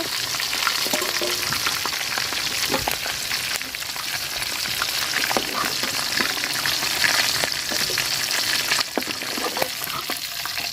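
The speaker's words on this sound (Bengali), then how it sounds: "তো মাংসগুলো আমি ভাজা নিচ্ছি, দেখেন এরকমভাবে।" Chicken pieces for a chicken roast frying in oil, a loud, steady, crackling sizzle with occasional spatters and stirring scrapes, close and continuous throughout, no speech.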